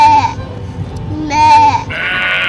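Sheep in Ireland bleat near a harbour shore, two loud, close wavering calls separated by a short pause, with other sound continuing after.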